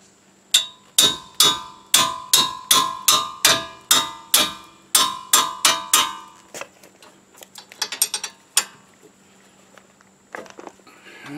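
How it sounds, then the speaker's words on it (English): A 5-pound engineer's hammer strikes a steel bracket on a 2013 Kia Sorento brake assembly, about a dozen loud, evenly spaced metallic blows up close, followed by scattered lighter clinks and taps. "5-pound engineer's hammer."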